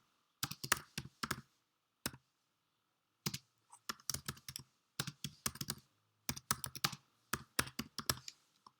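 Computer keyboard typing in short irregular bursts of rapid, crisp key clicks, with brief pauses between the bursts, close and alone with no talk.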